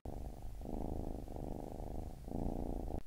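A cat at the Denver Cat Company, a cat café in Denver, Colorado, purrs steadily and close up in long rumbling waves with short breaks between breaths, and no voices.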